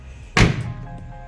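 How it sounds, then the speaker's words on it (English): A single heavy door of a 1963 Volvo 122S slams shut nearby with a solid, deep thunk that rings briefly, then fades. No voices. "I love the way these doors sound."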